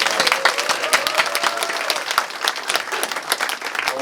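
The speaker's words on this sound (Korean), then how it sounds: "여러분들을 위해 박수 한번 쳐드리고 싶습니다" Dense, loud applause from an audience at a political party's provincial chapter founding convention, steady clapping filling the hall without letup.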